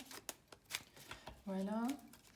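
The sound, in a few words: shuffling and drawing Lenormand cards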